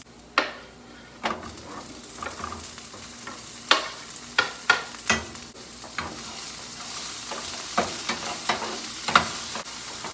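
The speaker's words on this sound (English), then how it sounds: "now I'm going to add the vegetables so it can all be a nice full saute" Vegetables sizzle steadily in a pan with olive oil, with repeated scraping stirs of a utensil against the pan at irregular intervals, close and clear with no talking.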